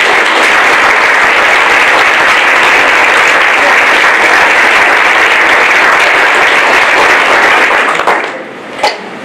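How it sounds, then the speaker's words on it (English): Sustained loud applause from an evening audience at an author's presentation honoring librarians, a dense, even clapping that runs for about eight seconds before fading out. "join me in a round of applause for all the good work our"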